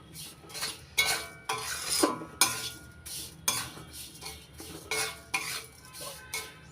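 Grated coconut being stirred into semolina in a pan for mango halwa, a spoon scraping and clinking in a steady, repeated rhythm of close, moderately loud strokes with no talking.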